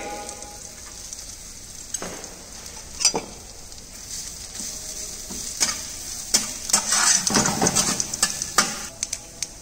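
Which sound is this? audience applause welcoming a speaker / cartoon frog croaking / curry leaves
curry leaves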